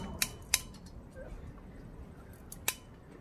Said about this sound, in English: I'm going to shave off the top like I do with them with the scissors.